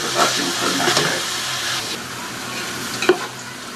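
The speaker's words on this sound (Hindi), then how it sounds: "अभी मैं ब्राउन जब प्याज हो जाएगी तो मैं आपको आगे बताती हूँ करना क्या है।" Onions browning in oil for Hyderabadi potato tahari rice, a steady close sizzle with occasional stirring scrapes and a sharp clink near the end, no talking.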